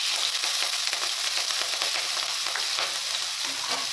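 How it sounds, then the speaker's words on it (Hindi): Green chillies frying in hot oil in a wok while samosa filling is cooked, a steady loud sizzle that stays unbroken and close for the whole stretch, with no voices. "तेल गर्म होने के साथ जाएगी हरी मिर्च"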